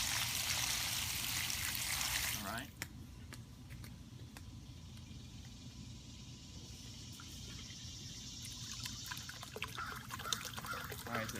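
Water flushes through the hoses of a Sunterra pond filter at a goldfish pond. A loud rushing surge drops to a softer, steady trickle, and a voice speaks briefly.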